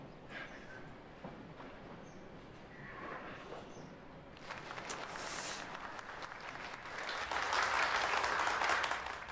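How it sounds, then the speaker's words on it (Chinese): Applause from parents at a school parents' meeting, a faint steady patter of clapping that swells and grows louder toward the end, with no clear talk over it. "快鼓掌呢"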